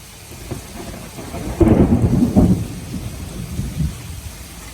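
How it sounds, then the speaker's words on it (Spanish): A summer thunderstorm with heavy rain: a constant rain hiss under a loud, rolling rumble of thunder that swells and fades over a few seconds. "Mira la que está cayendo. Tormenta de verano."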